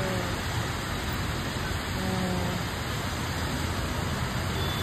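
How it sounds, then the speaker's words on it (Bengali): Heavy rain pours down in Guwahati, Assam, a dense, even broadband roar that stays loud and unbroken throughout, with no voices. "এই বারে ঝাঁপিয়ে বৃষ্টি এলো।"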